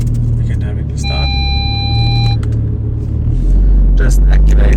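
A tuned 700 HP Audi RS3 2.5 TFSI runs warm on a dyno, its engine rumbling steadily up close while a beeping tone sounds briefly and people talk over it, before the rumble swells louder.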